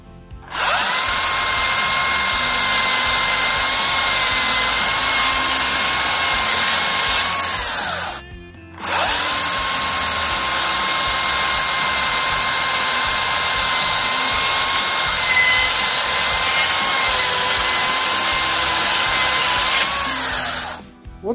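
A Makita cordless chainsaw cuts through wood while held one-handed, a loud steady high-pitched whine in two long continuous runs with a brief pause between, close and without talk.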